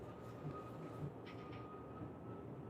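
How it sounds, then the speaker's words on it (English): A distant train on railway tracks makes a faint, steady low rumble and rolling hum with light metallic ringing, continuous and far off, with no voices. "It sounds like the train tracks."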